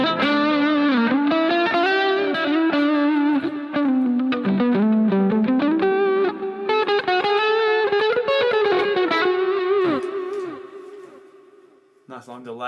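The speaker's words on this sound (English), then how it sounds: "Nice long delay and big reverb on that one as well." A distorted electric guitar plays a sustained melodic line drenched in long echoing delay and big reverb, fading out before a brief new chord at the end.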